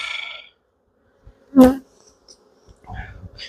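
Bees buzz in and around a beehive box, a harmonic drone opening the moment, then scattered rustles and a short loud burst before the buzzing returns faintly alongside low handling thumps near the end.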